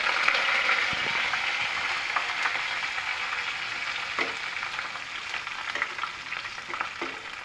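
Green chillies fry in a pan with onions, giving a steady close sizzle broken by occasional stirring scrapes and light pops, with no talking.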